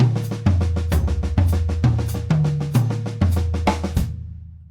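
A fast, steady drum 3A sticking pattern from the Gary Chaffee sticking system repeats on a kit, crisp strokes grouped in regular cycles with ringing low toms, close and loud, ending abruptly.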